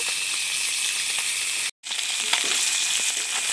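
River fish coated in chili powder frying in a pan, a steady close hiss of oil with a brief break midway before the crackle resumes.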